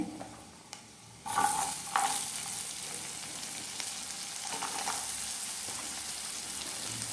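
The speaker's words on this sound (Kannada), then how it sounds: "ಈರುಳ್ಳಿ ಕೆಂಪಗಾಗುವವರೆಗೆ ಫ್ರೈ ಮಾಡ್ಕೊಳ್ಳಿ." Chopped onion hits hot oil with cumin seeds in a pan and erupts into a loud, steady hiss that carries on evenly, with a few faint clicks from stirring before it.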